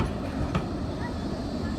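Blackpool tram passing during the Illuminations, a steady low rumble of wheels on rail with a faint squeal, heard up close throughout.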